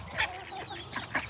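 Plump baby chickens cluck softly at feeding time on a farm with pigs and birds, giving a few short, faint chirping calls.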